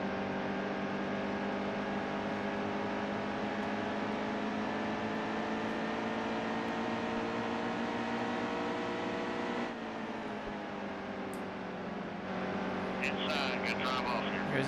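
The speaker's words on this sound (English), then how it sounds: "Big old clump of trucks here in front of me now." A pack of race trucks in the NASCAR Heat 2 video game drone steadily with layered engine tones throughout, shifting pitch near the end as the pack moves, under a commentator's voice.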